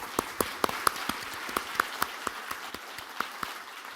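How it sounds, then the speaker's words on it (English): A small audience at a climate finance conference in Hong Kong claps for the panel speakers, a sparse scattering of distinct individual hand claps over a soft background of lighter clapping. "please give them a big clap"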